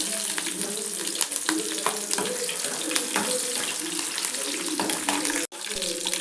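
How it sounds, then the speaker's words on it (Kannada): Steady hissing sizzle of green chilies frying in hot oil, continuous and fairly loud, with faint clatter and a brief gap near the end. "ಎಣ್ಣೆ ಕಾಯಕ್ಕೆ ಇಟ್ಟಿದ್ದೀನಿ ಇವಾಗ ಹಸಿರು ಮೆಣಸಿನ್ಕಾಯಿ ಹಾಕ್ತಾ ಇದ್ದೀನಿ"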